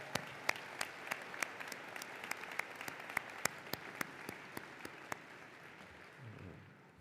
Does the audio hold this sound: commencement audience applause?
yes